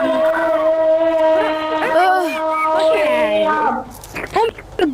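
Cat meows from the video game I Am Cat, a run of drawn-out, tonal cries that rise and bend in pitch, loud and close, followed by a few shorter chirpy bursts at the end.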